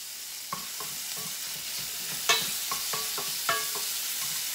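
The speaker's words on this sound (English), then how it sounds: "This is just like a quick stir fry of the meat." Meat stir-fried quickly in a pan, with a steady sizzle and spatula scrapes and taps against the metal at an irregular pace, close and moderately loud, with no talking.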